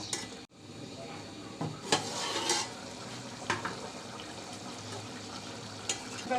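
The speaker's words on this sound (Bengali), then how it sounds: "আমি তিন থেকে চার মিনিট একটু ট্যাংরা মাছটা কষিয়ে নিব" Tengra fish sauté in a pan over the fire, a soft continuous sizzle broken by several scraping stirs and light utensil knocks, fairly quiet and close.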